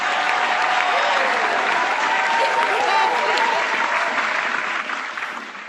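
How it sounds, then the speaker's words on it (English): A studio audience claps loudly and continuously in a dense, close wash of applause that holds steady and then begins to thin out toward the end, with no speech over it. "Let's have a big round of applause, everybody in studio and online,"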